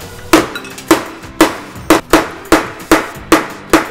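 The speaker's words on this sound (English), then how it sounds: "Need a big hammer." A big hammer striking a wheel on a Ford Contour, eight loud close metallic blows at a steady rhythm with short ringing decays and no talk.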